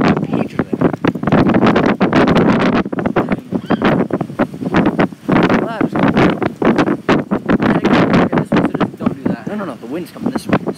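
Strong wind roars and gusts outdoors at night during a mains power outage, loud and constant with buffeting against the microphone while people talk throughout.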